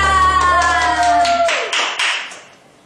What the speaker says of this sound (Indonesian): Yuk tepuk tangan semuanya untuk Tuhan.